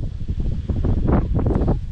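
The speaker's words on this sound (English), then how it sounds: "perhaps you can tell that it is extremely windy right now" Strong gusting wind outdoors during a cold front beats on the microphone in a loud, continuous low rumble that swells and fades.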